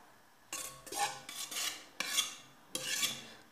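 Gentle mixing of whipped cream into a liégeois dessert preparation, a series of soft scraping, rubbing strokes of a utensil against a bowl, about four sweeps in slow rhythm, close and fairly quiet with no talking.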